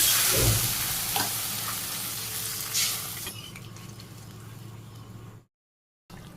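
Curry made with turmeric, dried red chillies and green chillies sizzles loudly in a village kitchen as water goes into the hot pan, the hiss fading steadily over several seconds before a brief silence.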